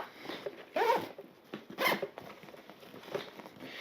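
Zipper on a hunting fanny pack rasps open close by in two quick pulls, followed by soft fabric rustling and handling of gear inside the bag.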